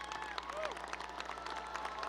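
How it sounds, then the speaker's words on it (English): Applause for a high school band and orchestra at a graduation ceremony, a moderate, even patter of clapping spread across the whole stretch, slightly distant in a large hall. "How about a warm round of applause for the Legacy High School Band and Orchestra"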